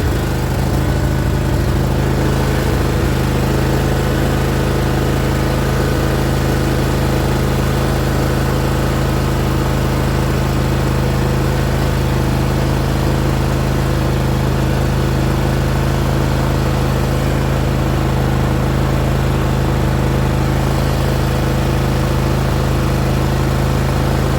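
A John Deere riding mower's engine idles steadily for the whole stretch, a loud, even mechanical drone with a constant low hum and no talking over it.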